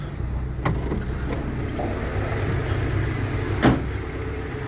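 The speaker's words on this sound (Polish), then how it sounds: "tak sobie chodzi na wolnych" A Polski Fiat 125p engine idling in a garage, a steady low rumble at moderate level with a few faint clicks and a brief knock.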